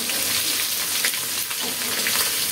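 Rohu fish pieces sizzle steadily in hot oil, producing a dense, continuous crackling hiss with small pops scattered throughout, close and fairly loud with no voice over it.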